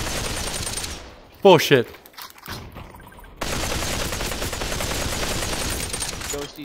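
Counter-Strike gunfire, dense sustained bursts of shots under a brief outburst of speech, with a short lull before the shooting resumes steadily and loud.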